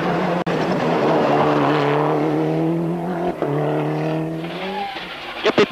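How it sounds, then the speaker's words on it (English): A Mitsubishi rally car on a tarmac stage of the 2000 Tour de Corse: a loud, close engine roars steadily with the pitch climbing and easing through gear changes, then ends in a few sharp bursts. "launched his Mitsubishi into the first stage"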